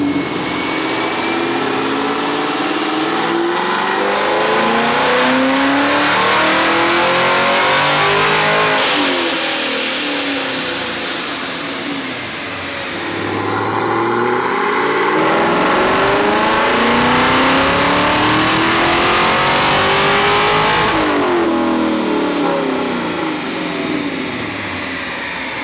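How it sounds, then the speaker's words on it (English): A Procharged 2019 Camaro SS with a supercharger and no headers roars through two long full-throttle dyno pulls, the engine climbing steadily in pitch each time before backing off, loud and close with no talking. "I'm gonna make a baseline pull and we'll see where it is."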